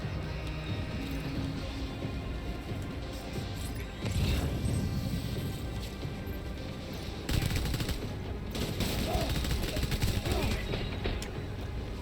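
Pistol shots ring out in Death Stranding amid dense combat noise, with several sharp bangs and mechanical clatter over a constant rumbling background.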